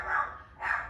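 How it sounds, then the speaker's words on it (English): A pet dog barking at someone walking past the house, two muffled barks from a room or two away, fairly faint. "barking like somebody walking past"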